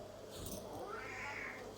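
An old, senile cat gives a faint, drawn-out meow against a low background hum, rising and wavering over nearly two seconds.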